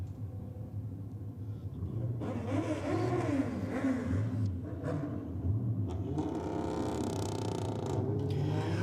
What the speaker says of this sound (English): we've got the Audi, which is just winding up the boost off the start line